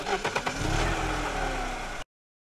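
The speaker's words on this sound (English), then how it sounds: "There are engines running." Car engines run loudly in a noisy city street, a steady mid-pitched rumble with some revving near the start, heard alone for about two seconds.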